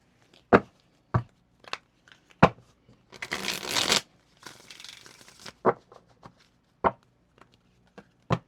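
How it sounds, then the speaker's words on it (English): Tarot cards being shuffled by hand, a series of sharp riffle snaps spaced about a second apart with a longer burst of rapid papery shuffling in the middle, close and clear with no speech. "Let me pull cards for your person."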